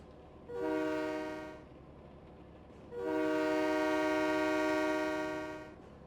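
A train in the Train Mechanic Simulator 2017 video game sounds two loud horn blasts, a shorter one followed by a longer one, over a low running rumble.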